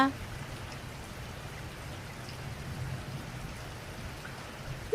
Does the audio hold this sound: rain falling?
yes